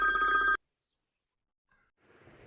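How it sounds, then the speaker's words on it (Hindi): A telephone rings once, a loud electronic ring lasting about half a second, then silence before faint room noise returns. "साले साहब का फोन है"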